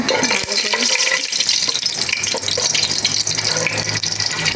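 Bay leaves, cinnamon, cloves and cardamom fry in hot oil with a loud, steady sizzle and crackle, broken by scraping stir sounds.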